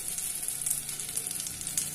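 Ragi paneer tikka frying in butter in a pan, a soft, continuous sizzle with faint crackles, fairly quiet and steady for a couple of seconds.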